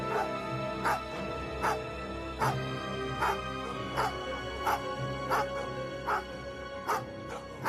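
Dogs in a Hindi horror film bark and yip repeatedly in sharp, regular bursts, with whimpering between, fairly close and loud over a steady low background, as they run toward a fallen scarecrow and attack it.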